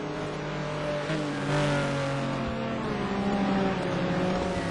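Touring race cars in the STC Black Cup at Anderstorp roar past together in a dense, continuous engine drone with rising and falling revs, loud and steady throughout.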